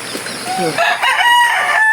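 A rooster crows in a rising, drawn-out call, loud and close, with other fowl sounds around it.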